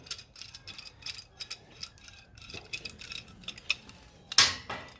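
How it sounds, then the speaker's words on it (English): A Harbor Freight clamp ratchets and clicks in quick irregular bursts while being tightened on a steel flatbed deck for a 2011 Silverado 3500HD dually, close by, ending with a sharper metallic clank. "I'm just going to use a regular Harbor Freight clamp."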